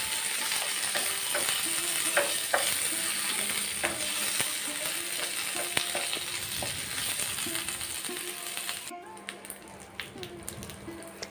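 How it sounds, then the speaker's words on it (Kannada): Chillies and curry leaves fry in hot oil in a pan for a brinjal side dish, a dense continuous sizzle with scattered pops and utensil clicks, close up, thinning slightly near the end. "ಕರಿಬೇವು ಹಾಕಿ ಫ್ರೈ ಮಾಡ್ಕೊಳ್ಳಿ."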